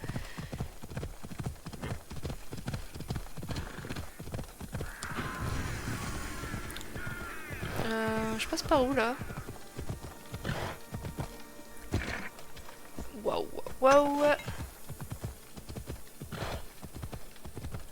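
Rhythmic clip-clop of horse hooves in Assassin's Creed, steady and close throughout, with crows cawing and someone speaking briefly over the hoofbeats.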